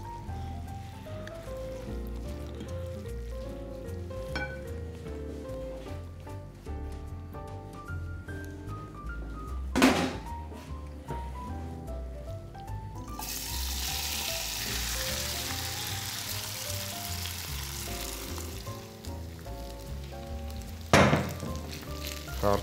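A phyllo and pumpkin dessert fries in a pan oiled with vegetable oil, giving a continuous close sizzle that grows into a brighter, louder hiss partway through, with a couple of sharp knocks from the pan.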